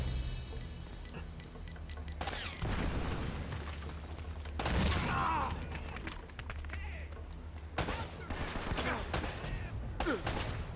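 Gunfire in the video game Uncharted: Drake's Fortune, with bursts of shots and booms scattered through steady game noise, some loud and near, others quieter.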